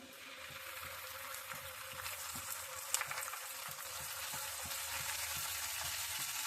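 Onion paste fries in hot oil with whole cardamom and cinnamon, a soft continuous sizzle with faint scraping taps of a spoon, quiet and close.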